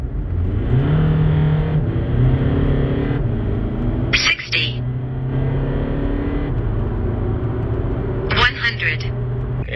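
A common-rail TDI diesel car with a stage two Tunezilla tune pulls hard from 20 to 110, its engine note rising through the gears with brief shift breaks, while people talk over the drone inside the cabin.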